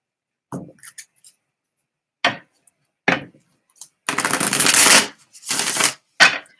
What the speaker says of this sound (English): I'll let 3 cards fall out.